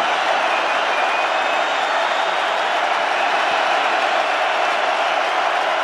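Crowd at a college football stadium during Florida State versus Syracuse, a loud, continuous roar of massed voices and cheering that stays steady and wide without distinct claps.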